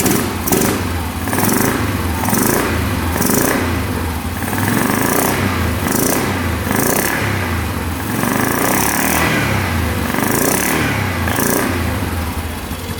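A nearby ATV engine runs loudly without its air box connected, revving up and down in a repeating rhythm of throttle bursts over a rough, throaty idle.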